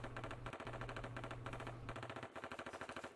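Sustained machine gun fire from Kamaitachi no Yoru rattles in rapid, steady bursts with brief gaps, loud and close, with no talking.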